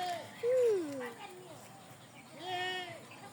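A young goat kid bleats twice, fairly close: a drawn-out wavering cry, then a second shorter one a moment later, over a steady outdoor background hiss.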